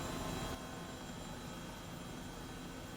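An Airbus H135 helicopter in a flight simulator flies over Los Angeles, a steady, even turbine whine and rotor hum with a broad hiss that drops slightly in level after the first half-second, with no one speaking.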